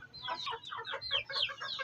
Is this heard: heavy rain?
no